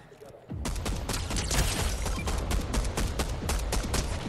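Rapid gunfire in a multiplayer shooter video game bursts in after a short quiet start and keeps rattling as dense, loud overlapping shots for several seconds.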